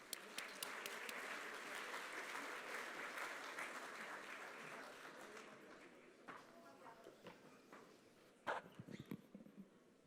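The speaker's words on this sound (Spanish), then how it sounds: "recibámoslo con un fuerte aplauso" Audience applause at a conference on sustainable development in the coffee world, a dense burst of clapping that fades away over several seconds, followed by a voice and a few scattered claps.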